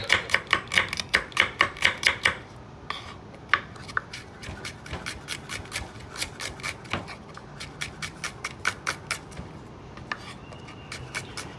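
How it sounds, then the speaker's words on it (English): A knife chops onions rapidly on a cutting board, quick regular taps in fast bursts with brief pauses, close and crisp throughout. "Now let's chop the onions the fastest way."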